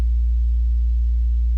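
A synth sub bass built from sine waves, a pure low tone held steady and loud for about a second and a half, alone with nothing else around it.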